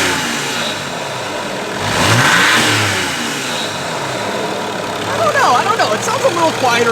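Mercedes turbo diesel fitted with a bigger turbo and no air filter, revving up with a rising whoosh and a whistling spool, then settling back toward idle as a chirpy whine rises near the end.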